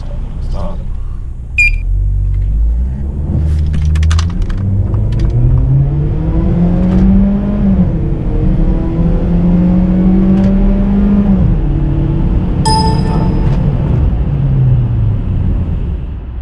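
A Saab 9-3 turbo sedan accelerates hard from a standstill to 100 km/h, its engine rising loudly in pitch through several gear changes with brief dips between shifts, heard from inside the cabin.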